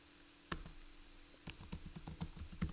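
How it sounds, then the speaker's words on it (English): Keys clack on a computer keyboard in a short burst of typing, faint and close, with an isolated tap before a quick run of keystrokes. "All I did was type."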